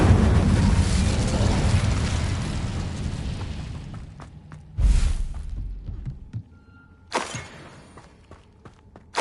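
An Incendio fire spell from Hogwarts Legacy, a whooshing burst of flame with a heavy thump, followed by a few smaller fiery pops and crackles as the roar dies away.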